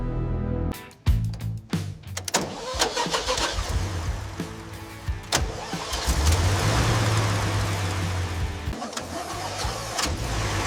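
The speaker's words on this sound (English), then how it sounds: "idles with the deep rumble only a true classic can produce" A restored 1978 Toyota Land Cruiser FJ45 pickup engine cranks a few times, catches and roars to life, then settles into a deep, steady rumbling idle.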